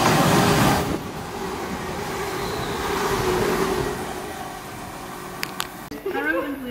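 A train rumbles and hisses into Bushey station with a thin brake squeal. Near the end come a short electronic chime and a brief platform announcement for a platform 6 train to Harrow and Wealdstone and London Euston.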